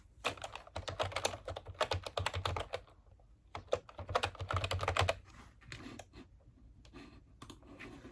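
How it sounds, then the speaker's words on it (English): Fast bursts of typing on a computer keyboard, moderately close and alone, with dense clattering runs broken by short pauses and scattered single key clicks near the end. "you can literally just type in"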